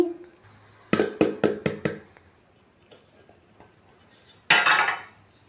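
A knife cuts a cooled dish on a plate, giving a quick run of five clinking taps against the plate, then a louder scrape and clatter near the end.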